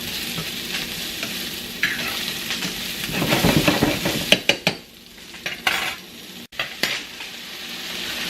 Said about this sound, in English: Make sure you're stirring them constantly